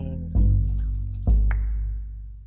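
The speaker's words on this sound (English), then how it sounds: "I am pouring my coffee" Coffee is poured in two quick, close bursts of liquid sloshing into a cup, each pour starting loud and then tapering off, heard alone without talk.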